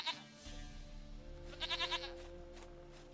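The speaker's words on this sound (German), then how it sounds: "Ich habe echt eine Ziege geholt." A goat in the video game The Witcher 3 gives a short run of quavering bleats, clear and fairly close, over a low ambient music bed with a little soft speech around it.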